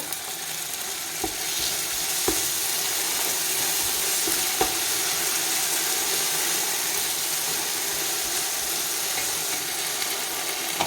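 Yogurt sizzles in a pan of sautéed ginger-garlic paste for mutton biryani, a steady, loud, close hiss with a few sharp clicks of utensil contact scattered throughout.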